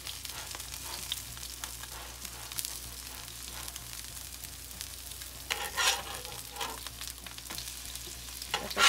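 Cheese and squash pupusas fry in a small amount of oil, giving a faint, steady sizzle with soft crackles and an occasional louder spit nearby.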